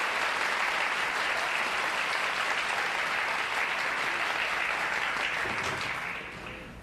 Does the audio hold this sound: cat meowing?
no